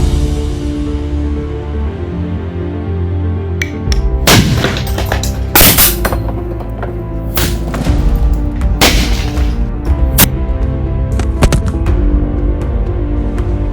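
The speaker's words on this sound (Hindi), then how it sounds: "इस वीडियो में मैं उड़ाने वाला हूँ इन सारे मिट्टी से बने चीजों को इन स्पेशल मेड इलेक्ट्रिक पटाखों से" Homemade sugar and potassium nitrate firecrackers blast apart clay objects, several sharp, loud explosive bangs in irregular succession over a continuous music backing.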